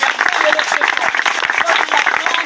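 A congregation at a Saturday mountain prayer gathering claps and cheers in steady rapid applause, loud and close, with voices mixed into the crowd noise.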